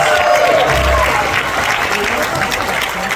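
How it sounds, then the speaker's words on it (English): A gala audience breaks into loud, dense applause for a guest, sustained clapping filling the hall for a few seconds with some voices mixed in. "please let's give Mr. Martin Short a big round of applause"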